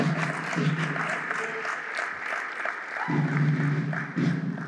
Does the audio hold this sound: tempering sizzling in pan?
no